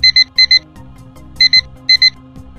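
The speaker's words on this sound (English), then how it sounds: "the app will also beep to alert you." Bright electronic beeps in quick pairs from a methane sensor app alarm, four double-beep bursts with short gaps, loud and close over a low background hum.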